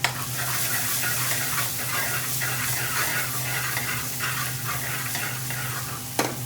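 Ginger and garlic frying in a pan for a restaurant-style chicken tikka jalfrezi, with a constant close hiss under rhythmic spatula scrapes and a single sharp clank near the end.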